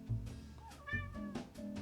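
A house cat meows several times in short succession, each call rising and falling, heard close and clear in a quiet indoor room with no talking.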